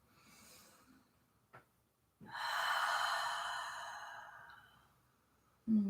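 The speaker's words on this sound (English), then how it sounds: "Inhale nice and deep." A long, deep breath during a yoga session, drawn in slowly and heard close, preceded by a softer breath and a brief sniff and followed by a short exhale at the end.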